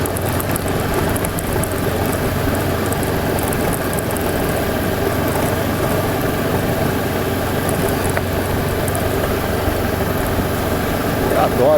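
Motorcycle engine droning steadily while riding along a road, a continuous loud drone with wind rush throughout and no pauses.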